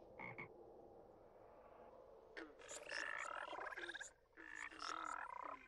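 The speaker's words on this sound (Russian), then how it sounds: "На Земле и сейчас есть амфибии, к примеру, лягушки." Several frogs croak in overlapping bursts of rapid, rattling calls, close and clear, with short pauses between choruses.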